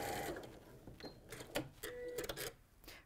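A sewing machine stitches through fabric lining in short, quiet bursts of fast mechanical whirring, separated by brief pauses, heard close in a quiet room.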